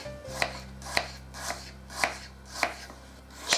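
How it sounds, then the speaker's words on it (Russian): Peeled, cored apples are sliced into wedges with a knife on a cutting board: six crisp, evenly spaced chops, close and clear over a faint steady hum, with no talking. "Затем яблоки нарезаю на дольки."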